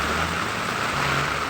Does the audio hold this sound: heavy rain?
yes